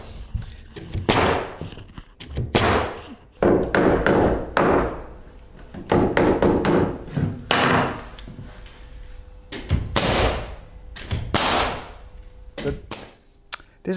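A series of sharp, percussive taps and knocks, irregular but repeated over and over, close by, like a hammer or staple tacker striking, tacking a door seal in place on a paint booth.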